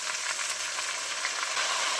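Yam and potato pieces frying in hot oil with spices, a close, steady crackling sizzle with light stirring, no voices.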